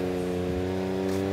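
A 172 hp Rotax engine fitted with an aftermarket exhaust and linked head pipe holds a steady, droning rev close to the microphone, a loud, even tone that sustains with no break.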